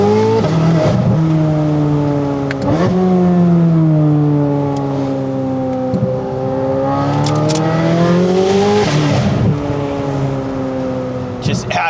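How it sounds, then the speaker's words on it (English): Corvette C8 Z06 with a full titanium exhaust revving hard on a drive past a golf area, loud close rising and falling engine pitch swinging up and down across several sweeps with brief tire noise. "Just absolutely savage exhaust."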